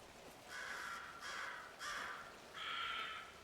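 Crows in Alan Wake II giving four harsh caws in a loose sequence, fairly faint and distant over a quiet noisy background.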